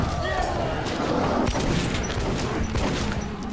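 Shotgun blasts in Metro 2033 land as a couple of sharp, loud cracks over a noisy game background, with someone talking throughout.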